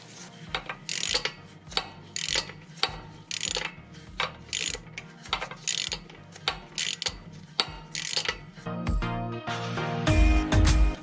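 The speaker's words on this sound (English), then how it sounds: "you just need to put the 8mm screw back in" A ratchet clicks in quick repeated bursts as it tightens an 8mm screw holding the rear ABS speed sensor on a Jeep JK, close and clear with no talk, ending in a louder metallic clatter.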